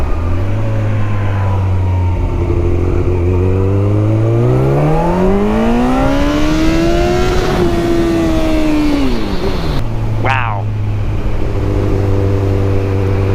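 A powerful sport motorcycle pulls hard up an on-ramp onto a highway, its loud engine note sweeping steadily higher before a brief shift drop, then settling into a steady drone, close and alone with no talk.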